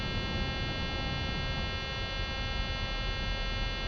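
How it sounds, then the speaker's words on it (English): In a flight simulator, a landing gear warning alarm sounds as a steady, loud electronic buzz that holds unbroken for several seconds. "And we get an alarm because the gear was down."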